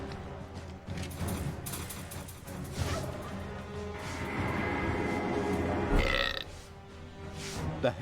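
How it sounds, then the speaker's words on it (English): A loud, drawn-out burp from the hellhole in the Dungeons 3 video game, rumbling for several seconds over busy game music and effects. "The hellhole rewarded the sacrifice of a live hero with a respectable burp."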